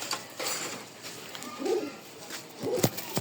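Domestic pigeons coo in short, soft bursts close by, with light rattling and handling noises in between.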